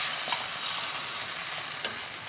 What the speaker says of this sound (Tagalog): ihuhulog na po natin ang ating scramble egg sa konting mantika